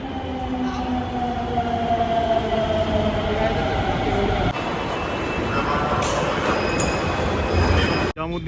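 A Delhi Metro Pink Line train passes nearby with a steady loud rumble, hum and rising wheel tones, a brief squeal near the end, no speech.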